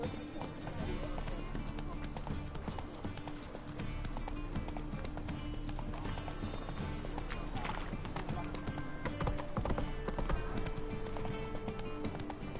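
Hoofbeats of Geralt's horse Roach galloping in The Witcher 3, a video game: a steady, continuous drumming of hooves running throughout, dense and busy, mixed with game music and other in-game sound.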